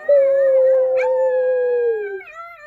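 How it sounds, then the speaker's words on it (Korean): A single long dog howl like a wolf's, loud and close, holding a steady pitch for about two seconds before sliding down and trailing off, with no voices. "새 아이는 늑대처럼 보름달을 보며 울부짖었어요."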